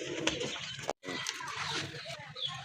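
Rajgolla large pigeons cooing at close range, soft repeated coos over a steady background murmur, with a brief dropout near the start.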